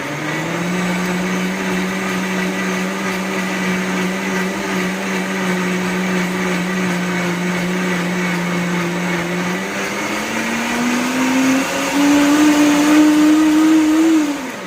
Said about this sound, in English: So it's time to blend this.